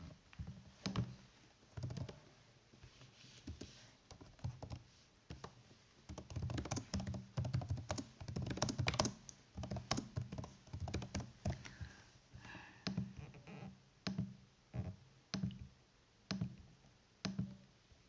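Someone types a comment on a computer keyboard in bursts of quick, close key taps with short pauses between runs, quiet and without talk.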